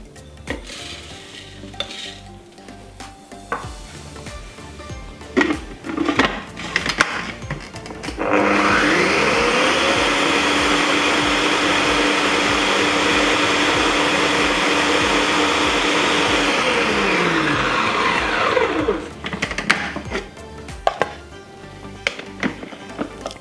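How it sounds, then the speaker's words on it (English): Food processor crushing oats for cranberry cookies: a loud, steady motor whir with a rattling grind runs for about ten seconds, with clattering and handling noises before and after. "we're going to crush this oats in food processor"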